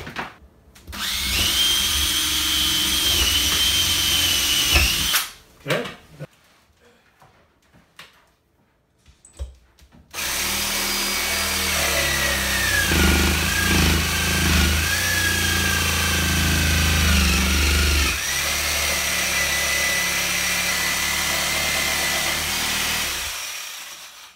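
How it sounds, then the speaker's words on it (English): A power drill whines loudly for several seconds, stops, then after a short pause a harsher jigsaw buzzes steadily through a wall for a long stretch while cutting an electrical outlet opening. "what I'm going to have to do is drill in and then use a jigsaw"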